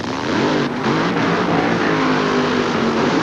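Two 4,000-horsepower drag race cars rumble loudly at the starting line of the 1988 California Nationals in Sonoma, a steady, dense engine roar that holds continuously from start to finish.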